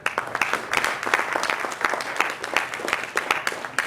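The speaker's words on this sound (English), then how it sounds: "another round of applause for all of our presenters and performers" A crowd claps for presenters and performers at a community event, loud, close, choppy applause with individual claps standing out, lasting without a break.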